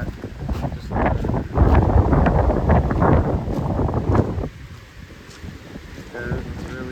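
High winds rip through a garden at night on Cape Sable Island, a loud, close roar of gusts buffeting the microphone, easing into a quieter steady blow toward the end.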